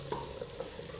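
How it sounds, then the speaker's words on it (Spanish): Beans bubbling as they boil in a pot, a soft steady simmer with faint bursts of bubbles, close and low in level, no voices. "Está hirviendo los frijoles."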